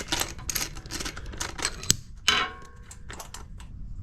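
Ratcheting wrench clicks in quick bursts while 10mm acorn nuts are broken loose on an old tiller carburetor, with a sharp snap partway through and dry metallic ticks close to the mic.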